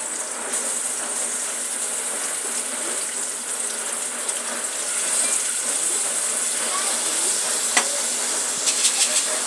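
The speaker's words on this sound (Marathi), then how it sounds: "मी चिरतोय आता कांदा फोडणीसाठी टाकलेला आहे। तेल चांगलं गरम करून घ्यायचं आहे।" Chopped onion fries in hot oil for a tempering, giving a continuous close hiss and sizzle with a few sharp crackles and pops near the end and no speech.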